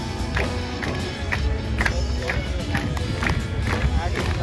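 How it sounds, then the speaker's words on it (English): A rodeo crowd claps in a steady rhythmic beat, about two claps a second, under continuous loud talk from an announcer. "We get our hands clapping."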